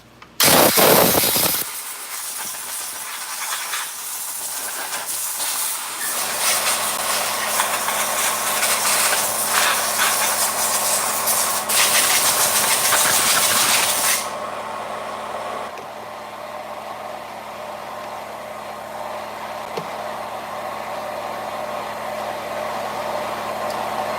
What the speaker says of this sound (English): Some choke cleaner on there.